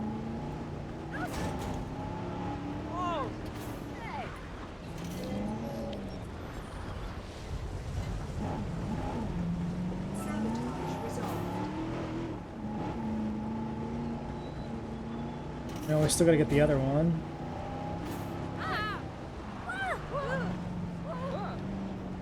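A car revving and roaring through turns in the dinosaur park management game Jurassic World Evolution, its engine droning steadily under a voice talking.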